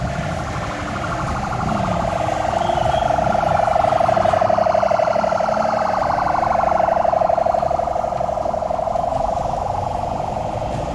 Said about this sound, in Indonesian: ambulan terlihat tiba di lokasi dan mengevakuasi para korban